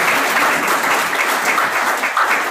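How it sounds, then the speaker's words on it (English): Audience applause at a university induction program in Pune, a dense, loud, sustained clapping that fills the whole stretch without pause. "Please, audience, give a huge round of applause"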